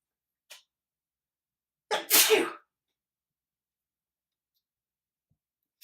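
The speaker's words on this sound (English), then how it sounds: "Sneezes." A single sharp human sneeze, close and loud, preceded by a small intake click and followed by silence.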